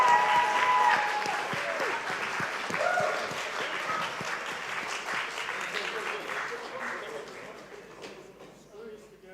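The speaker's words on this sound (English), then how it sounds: "keep clapping." Crowd at the Policy Idol 2026 grand final clapping for prize winners, dense applause that starts loud and gradually thins and fades, with a voice talking over it in the middle.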